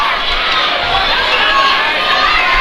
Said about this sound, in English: Looks like we have a little crowd action going on out there.